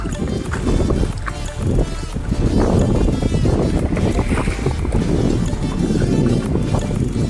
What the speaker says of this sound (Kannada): ಗಾಳಿ ಬಂತು ಜೋರು